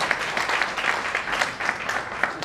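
Audience at the 16th national convention of the Akhil Bharatiya Walmiki Mahasabha in 2022 claps in a brief round of applause honouring the national president, a dense burst of hand claps with uneven pulses.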